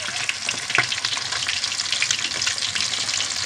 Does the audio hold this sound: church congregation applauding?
no